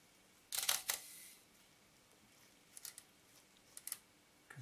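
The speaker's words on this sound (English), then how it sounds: "and then I can fire the shutter" Olympus 35 RD rangefinder camera being reassembled, with a crisp close mechanical click of the shutter and film advance, followed by a few smaller faint clicks and ticks of handling, alone with no talk.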